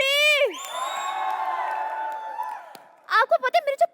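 A studio audience at a Colors TV entertainment show cheers and claps loudly for about two and a half seconds as two guests are welcomed on stage. A voice is heard just before the cheering and people talk right after it.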